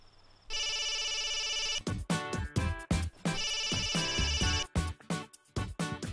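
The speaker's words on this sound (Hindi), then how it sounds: "कम ऑन शिव, फोन तो उठाओ।" A phone ringtone plays on and on unanswered, a steady electronic melody with repeating rhythmic bursts, loud and alone.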